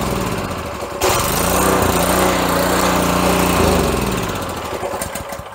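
A Honda small engine runs on full choke, loud and close, with a steady rough buzzing idle that rises slightly and then settles.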